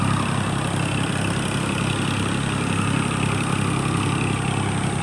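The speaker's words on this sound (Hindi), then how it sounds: "लबालब पानी भरा है, सामने ट्रैक्टर चल रहा है।" Tractor engine running steadily in a waterlogged paddy field being readied for rice transplanting, a loud, unbroken low diesel rumble with no voices over it.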